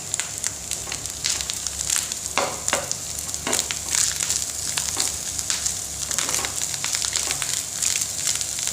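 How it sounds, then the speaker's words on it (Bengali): Ginger-garlic paste, chopped onion and green chillies fry in a pan with steady loud sizzling, broken by scraping stirs and bursts of crackle, with no talking. "আদা রসুনের পেস্ট দিছি, আর পেঁয়াজ কুচি দিছি, কাঁচামরিচ দিছি, খুব সুন্দর করে ভাজা করিয়ার"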